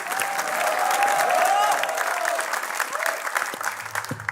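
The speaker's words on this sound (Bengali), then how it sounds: "তারপর আমরা জোরে একটা হাততালি চাই ফর বিপি সিজন ফোর" Audience applause at a live debate event with a Bachelor Point team, a sustained, dense round of clapping from the crowd that holds steady for several seconds before thinning toward the end.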